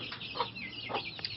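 Roosters cluck in short, soft bursts on a poultry farm in Kajiado County, Kenya, with a few calls rising above the low background.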